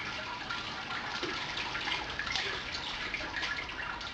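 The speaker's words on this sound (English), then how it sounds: "the sparge water just flushes extra sugars out of the grain" Sparge water drains and trickles through a bed of grain in a Brewzilla brewing system, a soft, steady splashing with faint drips, quiet and continuous with no voices.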